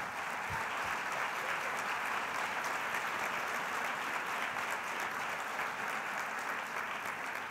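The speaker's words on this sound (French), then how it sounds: "Alors, si vous voulez vous lever, on va vous applaudir." An education summit audience applauds the Estime coding team, a mostly female school group, with continuous, full clapping that stays even and loud throughout.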